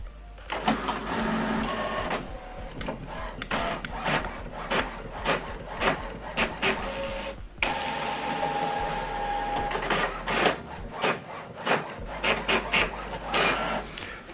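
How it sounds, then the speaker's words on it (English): An HP OfficeJet printer runs a double-sided print job, with repeated mechanical whirring and paper-feed rasps, clunks and clicks in uneven bursts, close and fairly loud, carrying on steadily with a brief pause midway. "So this document now is printing."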